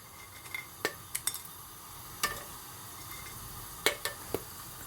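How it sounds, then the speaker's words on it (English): Dried chilies, cloves and cinnamon sticks sizzling gently in warming oil in a pan on a gas stove, a faint steady hiss with a few sharp pops and clinks of utensils scattered through. "You can see that it is sizzling slightly."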